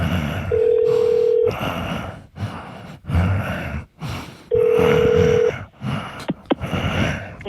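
A telephone line tone plays during a call transfer to the operator at Motel 41: two steady, sustained tone bursts separated by gaps, with clicks, noise and breathy sounds in between.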